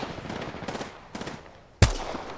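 Gunfire while under attack in Apex Legends: a few muffled distant bursts of shots, then a single loud, close, sharp report near the end.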